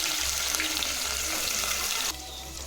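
Green chillies and onions fry in hot oil with a steady, dense sizzle that holds loud for about two seconds, then drops to a quieter hiss, with a low hum underneath.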